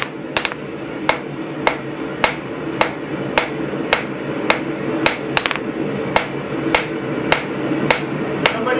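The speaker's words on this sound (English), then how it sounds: "just planish the surface as we go down" Hammer planishing the surface of a steel workpiece on an anvil at a blacksmith's forge: a regular series of sharp, ringing metallic strikes, about one per second, close and loud over low shop background noise.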